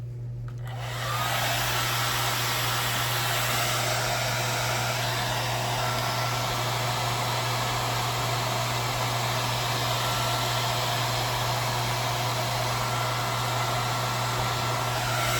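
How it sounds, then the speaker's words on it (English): A blow dryer switches on and runs steadily at close range, a loud continuous whooshing roar with a low motor hum. "Blow dryer, heating gun would work better, but whatever."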